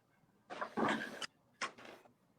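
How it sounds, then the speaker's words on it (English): A squeaky piano bench creaks in two faint, close bursts, each a strained, drawn-out squeal with a rough edge. "I got this nice squeaky piano bench that I'm sure you can hear"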